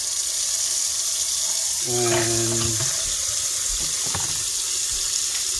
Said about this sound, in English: So let's go ahead and fill it with water.